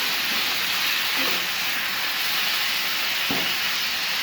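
Chicken pieces frying in hot oil for a chicken fajita sandwich, giving a steady, dense hiss and sizzle throughout with a faint clatter midway and no talk.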